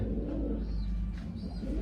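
Soft cooing of pigeons over a low, steady rumbling background, the calls faint and repeated a couple of times.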